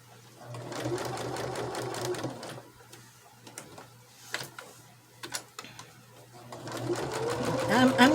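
A sewing machine runs in steady rapid bursts while stitching a small pocket prayer quilt, pausing briefly in the middle before racing on again, close and loud with a voice talking over it.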